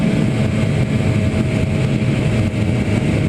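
Engine of a 2009 Cagiva Raptor 125 two-stroke motorcycle running loud and steady with a dense buzzing drone, near and continuous throughout, with no voices over it.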